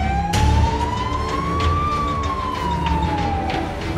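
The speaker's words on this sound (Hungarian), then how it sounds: "A KRESZ szabályozása szerint a szirénázó járműveket előzni tilos." A loud emergency vehicle siren on a road in Sopron, Hungary, one slow wailing tone that climbs and then falls, heard close and alone over the rumble of the vehicle.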